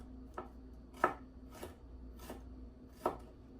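A knife slices an onion thinly on a cutting board for deep-frying, with about five crisp, evenly spaced chopping taps over a faint steady hum and no talking.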